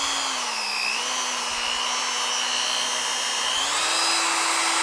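A VEVOR die grinder spins at slow speed, a steady loud whine with a high motor tone that sags briefly and then rises slightly toward the end, with no voices.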